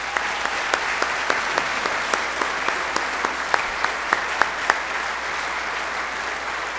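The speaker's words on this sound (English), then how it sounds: "One more round of applause for our students tonight." Audience applause for scholarship students at an evening senior salute ceremony: steady, dense clapping from a large crowd that fills the whole stretch at an even level, with sharper individual claps standing out.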